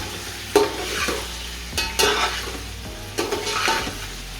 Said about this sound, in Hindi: जब लाइट सा ब्राउन हो जाए तो इसके अंदर हमने चिकन डाल देना है और इसको भी हमने अच्छे तरीके से फ्राई कर लेना है